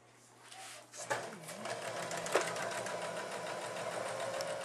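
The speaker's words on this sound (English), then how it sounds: "we're going to just straight stitch right down the edge" A sewing machine running a straight stitch down the folded edge of a homemade Christmas stocking, starting up after a second and then whirring steadily and close by, with a voice speaking briefly near the start.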